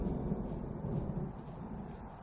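Low, rumbling thunder and wind from an approaching storm in the video game Firewatch, a steady deep roll with faint gusting swells, continuous and moderately loud with no voices.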